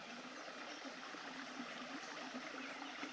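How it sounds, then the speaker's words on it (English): Spring Grove Creek, a babbling brook running over rocks on a country walking path in Monona County, Iowa, a faint, steady gurgle of water with no talking. "You can hear this babbling brook."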